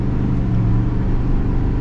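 A 2024 GMC Sierra HD Denali Ultimate pickup with the Duramax diesel accelerating, heard as a steady, loud low engine drone from inside the cab, with no voices over it.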